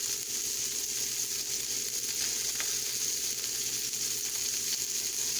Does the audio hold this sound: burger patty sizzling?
yes